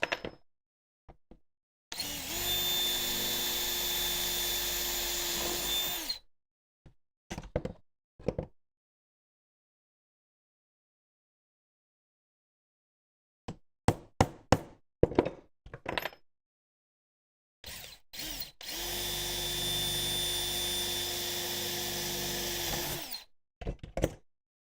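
A power drill whirs in two sustained bursts of several seconds each during AC installation on a Chevrolet Impala, with scattered knocks and taps in between and quiet gaps.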